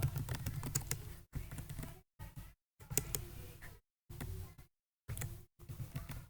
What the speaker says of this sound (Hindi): अब मैं डेटा को इंटर करता जा रहा हूँ